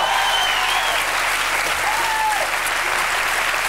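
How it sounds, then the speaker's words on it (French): Steady applause from a studio audience for Jimmy Page and Robert Plant, dense and continuous clapping filling the whole stretch with no pause. "Vous pouvez les applaudir."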